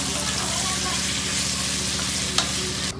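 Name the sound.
onions frying and being stirred in a pan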